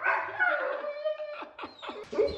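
Dogs bark in short, excited bursts, mixed with yips and whimpers that rise and fall, heard close by with no one speaking.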